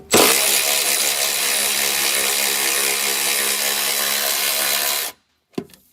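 Milwaukee long-reach high-torque impact wrench loosening a bolt on a 2015+ Ford Mustang GT 5.0L during an exhaust install, a loud continuous whirring hammer lasting about five seconds, then stopping with a few small clanks.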